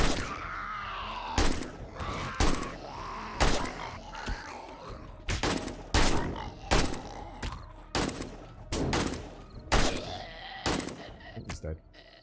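Gunfire in 7 Days to Die Alpha 19, during multiplayer server play: loud single shots spaced a second or so apart across the whole stretch, with creature bleats and thuds between them and a voice talking over the top.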